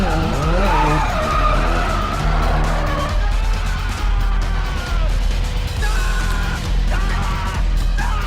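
Tires squeal and skid in long, loud wails as a car drifts in a movie scene, with engine roar underneath and a low rumbling bed throughout.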